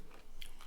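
A bite into crispy air-fried pork belly crackling gives a short, close crunch with a couple of crisp cracks, quiet and brief.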